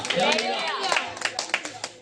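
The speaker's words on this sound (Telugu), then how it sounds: "చప్పట్లు కొట్టి దేవుని స్తుతిద్దాం." A church congregation at a Christmas service in Alamuru village claps in uneven bursts while a voice carries over the start, the claps growing sharper and more distinct toward the end.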